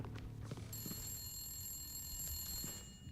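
Telephone ringing in The Long Dark: a thin electronic ring tone sounding steadily for about two seconds, quiet and distant in a still room, no voices.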